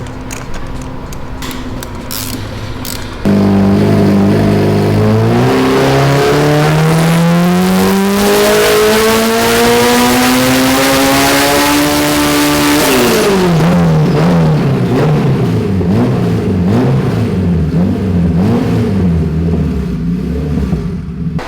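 A budget turbocharged Honda engine on a dyno idles, then revs hard in a long rising pull that climbs steadily in pitch before dropping back to a burbling, fluctuating idle, loud and close.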